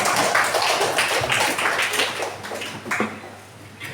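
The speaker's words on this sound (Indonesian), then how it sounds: "Silakan tepuk tangan." Classroom of children applauding together, a dense continuous patter of many small hands clapping that stays fairly steady for several seconds before tapering slightly.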